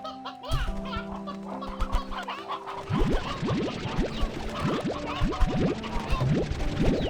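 Chickens cluck in a pen in the video game Slime Rancher 2, overlapping repeated clucks and squawks over a steady game soundtrack, close and fairly busy throughout.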